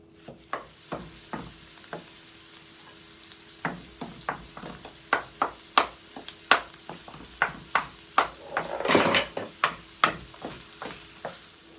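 Ground turkey browns in a pan with a quiet sizzle beneath a steady run of sharp scraping and tapping strokes from a spatula, each one distinct and close.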